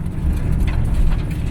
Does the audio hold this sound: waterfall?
no